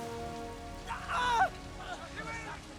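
Steady rain falls on a muddy jungle campaign in ancient times, a continuous hiss under a voice speaking partway through.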